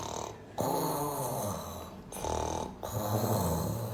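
A voice imitating several farm animals snoring in a children's story, with long, loud, rasping snore sounds repeated in a slow rhythm and brief pauses between them, close and alone.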